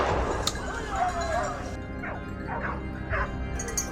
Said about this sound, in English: The moment we heard barking, we knew the prey had been cornered.